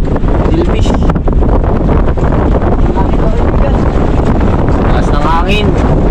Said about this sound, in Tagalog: Taas ng hangin.